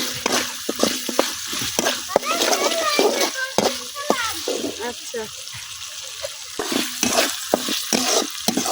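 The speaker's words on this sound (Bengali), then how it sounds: "তো আদা রসুনটাও আমি কিছুক্ষণ ভাজা নিছি" Ginger and garlic paste frying in a pan, a soft continuous sizzle with scraping stirs and clinks of a spatula, heard under a woman's brief speech and other voices nearby.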